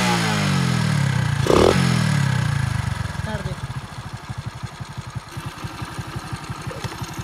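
A modified Hero Splendor motorcycle with big tyres and its air filter removed revs up, then settles into a loud, close, rhythmic idle with distinct putting pulses.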